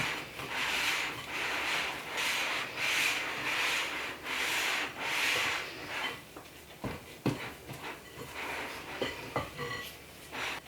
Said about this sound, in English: Make sure to scrape the sides and the bottom just to get all of the dry ingredients.